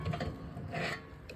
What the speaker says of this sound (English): you can peel this caliper off of there.